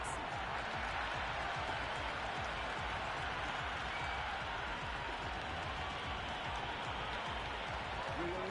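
Stadium crowd in the cricket video game Cricket 26 during an India vs South Africa T20 match in Mumbai, a constant roaring wash of cheering and applause at even loudness, with no break.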